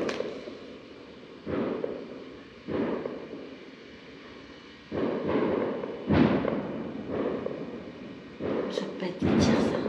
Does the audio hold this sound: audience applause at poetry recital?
no